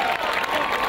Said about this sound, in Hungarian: szintén egy nagy tapsot